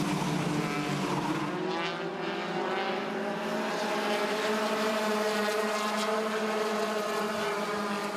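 USAC Eastern midget race cars roar down the front stretch at Ace Speedway in single file, a loud sustained engine drone with shifting pitch as cars pass, no talk over it.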